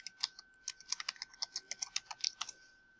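Quick, light keystrokes on a computer keyboard, a rapid irregular burst of clicks that is close and quiet, then stops near the end.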